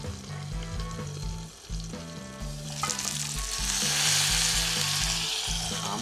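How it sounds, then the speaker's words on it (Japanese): A meat pizza with cheese and tomato sauce sizzles under a lid over low heat, a steady frying hiss with music playing and the sizzle growing louder partway through. "トマトソースにですね、熱が入るまで弱火で蓋をして蒸していきます"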